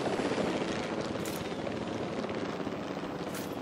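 A video game helicopter's steady rotor thrum fills the whole stretch, loud and continuous with a broad, rumbling wash and no voices over it.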